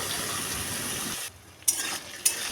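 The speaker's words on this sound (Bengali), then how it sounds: "কড়াইতে তেল গরম করে বিচিগুলো দিয়ে দেব।" Jackfruit seeds sizzle in hot oil in a wok with a steady, dense hiss that drops away midway, followed by two sharp utensil clinks against the pan.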